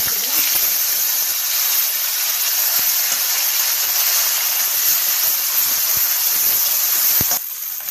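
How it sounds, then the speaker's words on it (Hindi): Onion, ginger and masala frying in refined oil for a chicken gravy, a loud constant sizzling hiss that runs unbroken before dropping off slightly at the end. "एबे देखंतु एबे 5 मिनिट पर्यंत मसला को धीरे धीरे कसी देछि"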